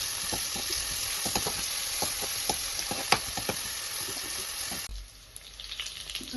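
Chopped onion and garlic sizzle and crackle steadily in a hot pan for a tender jackfruit curry, with occasional stirring scrapes; the frying dips quieter near the end.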